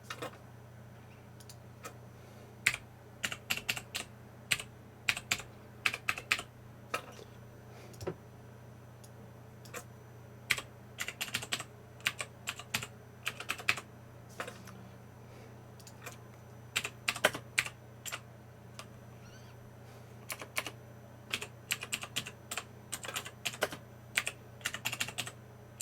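Computer keyboard keys tapped in uneven bursts while a password is entered, close and clear over a steady low hum, with short pauses between runs of keystrokes.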